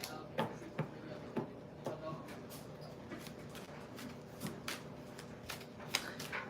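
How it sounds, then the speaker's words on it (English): A tarot deck is shuffled by hand in quick, crisp riffles and snaps that repeat irregularly. The cards sound close and soft, with faint room noise and a few low murmurs. "This deck has become my favorite. Not really the pictures, but the way it shuffles."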